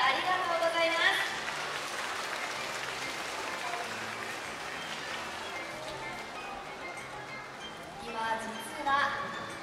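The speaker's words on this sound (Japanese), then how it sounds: "温かい拍手ありがとうございます" An audience at an orca public training show claps, loud at the start and again near the end, with softer continuous applause in between and a voice speaking over it.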